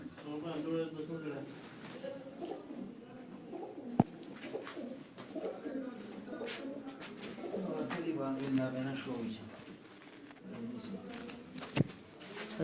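Pigeons coo in low, throaty warbles, fairly close, while people talk over them; a couple of sharp clicks stand out.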